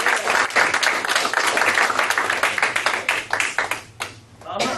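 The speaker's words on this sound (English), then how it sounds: "Ladies and gentlemen, give Jamie a round of applause." A live stage-show audience applauds Jamie with dense, loud clapping that holds steady, then thins out and fades near the end.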